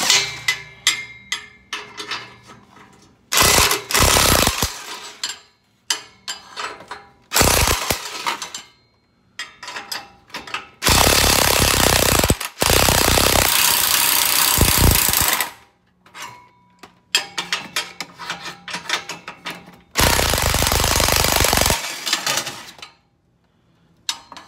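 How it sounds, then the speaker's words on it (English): A 15 mm impact wrench hammers off exhaust flange bolts on a C7 Corvette during a Borla Atak exhaust install, with loud repeated rattling bursts of several seconds each, separated by brief pauses and clicks. "let's get these flange bolts off. I got my impact wrench and it's 15 millimeter"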